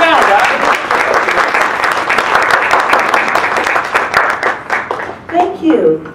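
Audience applause for a speaker at a court reporters' training event, loud dense clapping from a crowd that thins out into scattered claps as a voice begins speaking near the end.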